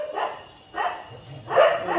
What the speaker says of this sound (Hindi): कितने कुत्ते हैं